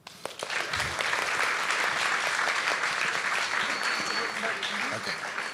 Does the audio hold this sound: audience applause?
yes